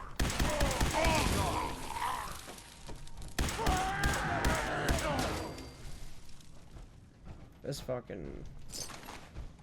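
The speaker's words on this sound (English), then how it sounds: "This rifle is melting through these super rooms." Rifle fire against enemies in Fallout 4, a burst of rapid, loud gunfire with thuds and impacts mixed over game sound, then sparser cracks toward the end, with speech over it.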